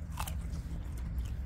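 A bite into a firm, crunchy Ruby Crunch diploid plum with dense flesh, giving a short crisp crunch near the start and then soft, close chewing over a low background rumble.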